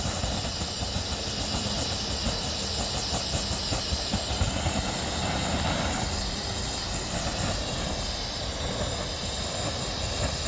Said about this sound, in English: A lot of steam coming out of there now.